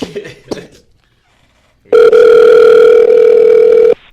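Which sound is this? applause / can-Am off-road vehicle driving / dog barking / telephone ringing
telephone ringing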